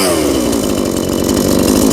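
A YATO YT-84892 gasoline chainsaw runs loud and steady close by, its engine buzzing continuously with a slight rise in pitch across the two seconds.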